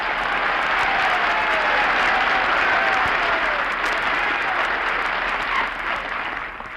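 Sustained applause from a sizable audience at Marine Corps Air Station Mojave, California, dense and steady, holding for several seconds before easing slightly at the end.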